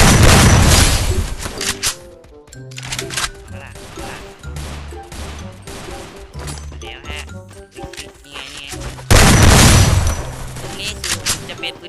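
Gunfire in the mobile shooter Free Fire: rapid shots and impacts pile up into loud bursts at the start and end, with sparser shooting in between, all under background music and occasional talk.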